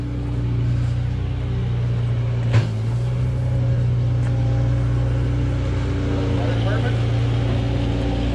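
A tractor runs out back behind a building, a steady low engine drone with a constant hum that carries on throughout, heard under someone talking nearby.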